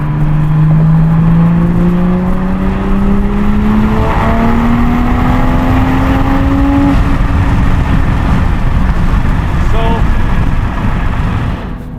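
A Toyota Supra accelerates hard in a quick pull, engine note rising steadily through the gears with a gear change midway, loud and continuous over heavy wind noise inside the car.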